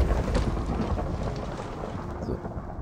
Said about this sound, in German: Mach mal einen Blitz.